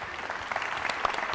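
Audience applause for Team Austria at the Predator World Teams Championship 10-ball pool event, a steady wash of clapping from a crowd held at a moderate level throughout.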